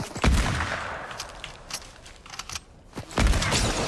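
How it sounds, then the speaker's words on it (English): Rapid gunfire in a battle royale video game, with sharp loud bursts near the start and again near the end, scattered quieter shots and crackle between them, and no talk. "He's trying to shoot me."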